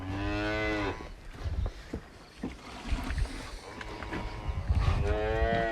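Two long, loud moos from a nearby cow, one at the start and one at the end, with rustling and knocking in between.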